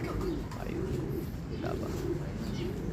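Racing pigeons coo repeatedly at a loft while awaiting a 550 km race, with soft rolling calls close by over a steady outdoor background and voices murmuring.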